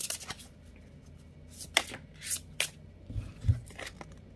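Paradise Found oracle cards are shuffled by hand to draw one, with soft riffling and sliding bursts that come and go, plus a few sharper flicks, close and quiet with no talking.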